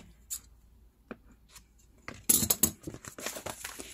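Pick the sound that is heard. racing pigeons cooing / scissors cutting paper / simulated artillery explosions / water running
scissors cutting paper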